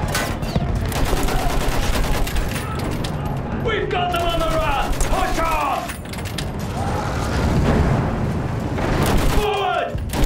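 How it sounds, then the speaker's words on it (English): Rapid machine gun fire and battle booms in the Battlefield 1 video game, a continuous dense rattle of gunfire with explosions and shouted voices throughout. "Use that machine gun. Mow them down."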